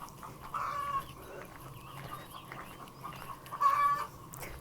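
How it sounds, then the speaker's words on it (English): Ducks in a garden quacking in two short, fairly faint bursts, a few seconds apart, over quiet outdoor background. "And there's our duckies."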